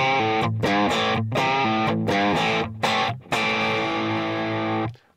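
Distorted electric guitar through a Valeton GP-200 amp and cabinet simulator plays a few chugging chords and a sustained final chord, loud and buzzy, no voices.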